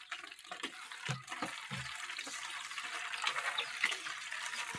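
Tap water running into a gallon container, a steady close splashing fill with a few brief louder low thumps early on.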